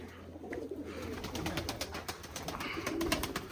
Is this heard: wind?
no